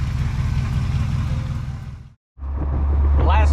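A hot rod roadster drives along the road with a steady engine rumble and wind roar, briefly cutting out before the low drone returns, up close and loud.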